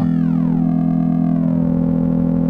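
A loud, buzzy synthesizer tone from a Verbos Harmonic Oscillator Model 262v module in sawtooth mode, with a bright, harsh edge, its pitch gliding downward then holding steady, sustained throughout without any voices.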